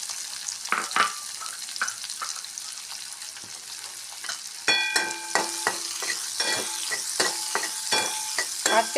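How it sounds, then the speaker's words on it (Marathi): Onion and cumin seeds frying in hot oil for aloo gobi, a steady close sizzle with scattered crackles and pops that grow denser and louder partway through, no voices. "जिरं छानपैकी फुललं की त्यामध्ये कांदा घालायचा आहे."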